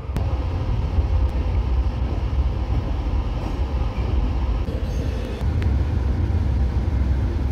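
An AC double decker train runs between Anand Vihar and Lucknow, heard from a lower-deck seat near the wheels as a loud, continuous low rumble with rhythmic rail clatter and a few faint clicks.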